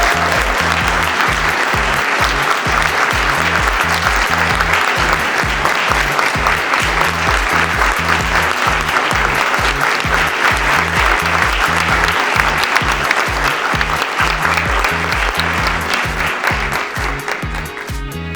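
A large breakfast-event audience gives a sustained round of applause, loud and dense throughout, steady clapping that carries on for many seconds before easing slightly at the end.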